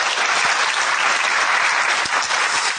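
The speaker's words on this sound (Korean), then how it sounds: "큰 박수 한번 부탁드립니다" Audience at a Korean economic conference breaking into steady, dense applause, close and loud throughout, with no voices over it.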